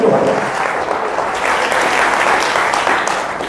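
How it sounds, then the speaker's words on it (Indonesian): A church revival congregation breaks into loud, sustained applause that fills the hall without a break. "Beri tepuk tangan yang meriah bagi Tuhan."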